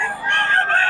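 A rooster crows nearby, a loud strained call filling the short clip, with other birds faintly in the background.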